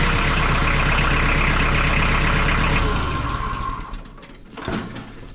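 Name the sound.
engine running after being cranked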